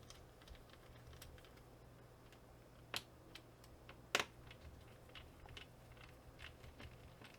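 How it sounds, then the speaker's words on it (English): A screwdriver backs Phillips head screws out of the hard drive mounting bar inside a 2011 17-inch MacBook Pro, giving faint, close, irregular ticks and clicks with two sharper taps standing out. "So let's take those screws out."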